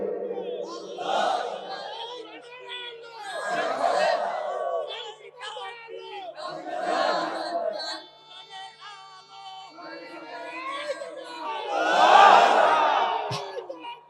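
A rally crowd chants takbir slogans in repeated loud surges, with a lead voice calling and many voices answering in waves across the clip.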